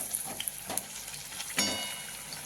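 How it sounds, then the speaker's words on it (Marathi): Colocasia leaf rolls coated in gram-flour batter fry in hot oil, giving a soft steady sizzle with a few light stirs and clinks, close by and with no talking. "असे आपण हे एक एक करून अशा तळून घ्यायच्या"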